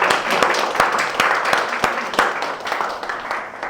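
A church congregation applauds steadily in a room, many hands clapping together for a few seconds. The clapping thins out slightly toward the end.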